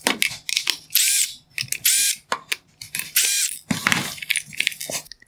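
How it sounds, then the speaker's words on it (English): A screwdriver backs out the Phillips head screws holding the bowl of a GE Refresh LED Daylight BR30 floodlight bulb during a teardown, giving close, loud bursts of ratcheting, scraping clicks separated by short pauses. "Next, I will remove the three Phillips head screws holding the bowl in place."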